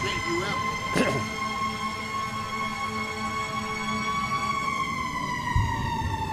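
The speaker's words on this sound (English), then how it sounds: "That's a fire truck, not an ambulance, but it could be an ambulance." A fire truck siren wails past outdoors, a steady rising-and-falling tone heard behind a noisy crowd, loud and sustained with a brief horn blast.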